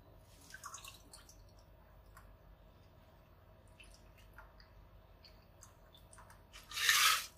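A gin cocktail with Sichuan pepper is poured through a strainer: faint drips and small wet sounds, then a short, splashy burst of pouring near the end.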